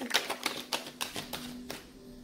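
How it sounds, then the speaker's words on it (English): Tarot cards shuffled by hand in a quiet room, a run of about eight crisp riffling snaps and taps at an uneven rhythm, close and fairly faint, with a low steady hum underneath. "So, this is the last shuffle."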